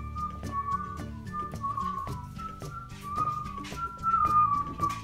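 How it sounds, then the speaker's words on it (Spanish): A person whistles a tune with clear, melodic sustained notes and short phrases, close and moderately quiet, alone without talking. "Siempre está silbando."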